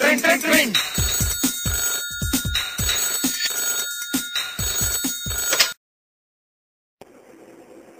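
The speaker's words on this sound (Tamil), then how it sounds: "மாமா மெசேஜ் வந்திருக்குது பாரு." A mobile phone alert tone in a 2012 Tamil comedy film scene, ringing in a quick repeating electronic pattern for about five seconds, fairly loud and close, then cutting off to near silence with faint room noise.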